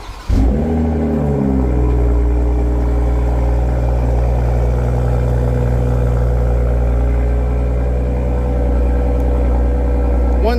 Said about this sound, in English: let's hear that remote engine start